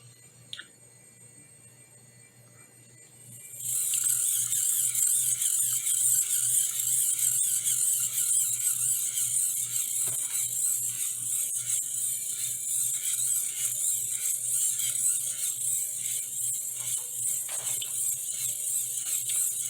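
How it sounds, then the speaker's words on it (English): A compass motor, an electric motor driven by magnets, starts up after a quiet moment and then runs with a steady high-pitched whir and faint mechanical ticking, continuous and close. "this is a compass motor"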